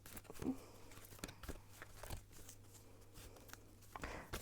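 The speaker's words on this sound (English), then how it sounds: "I'm gonna shuffle now and see what the cards have to say about who is in love with you." Tarot cards being shuffled by hand, quiet close-up riffling and sliding with a series of soft irregular flicks and taps over a faint low hum, no talking.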